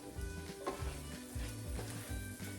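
Rice sizzling in olive oil in a pan, a steady close frying hiss with occasional clinks and scrapes of stirring, no voices.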